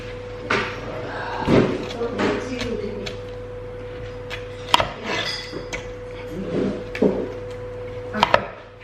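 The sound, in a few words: knife slicing cucumber into thin slices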